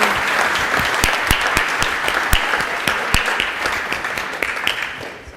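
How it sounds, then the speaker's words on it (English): An audience claps in sustained applause after a speech, a dense and even patter that fades toward the end. "And again, a round of applause for Mike in coming to join us today."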